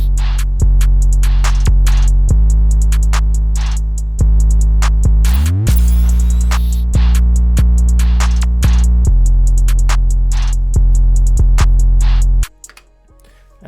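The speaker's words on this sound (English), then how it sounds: "And then all the drums together now sound like this." Full emoplugg drum beat with a booming 808 bass under crisp hi-hats, snares and rolls, a sweeping pitch slide and chopped hits, loud and steady with no talking, ending abruptly.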